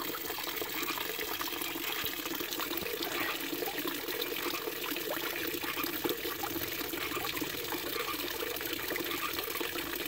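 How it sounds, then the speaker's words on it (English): A courtyard waterfall stream trickles and gurgles at a soft, constant level, a close, continuous wash of moving water with no voices. "And a carefully composed, deep gurgling that echoes across the courtyard."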